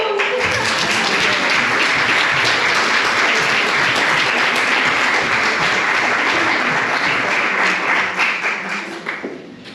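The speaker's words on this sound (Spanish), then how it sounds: "Un aplauso a Jesús." Loud, dense applause from a large audience at a Spanish-language spiritual talk, sustained at full strength for several seconds before tapering off at the end.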